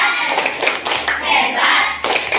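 A class of students claps together during a classroom teaching practice session, with bursts of rhythmic hand clapping close by that pause and resume.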